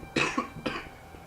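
Two quick, close coughs from a man recovering from illness, sharp and loud, back to back with no talk.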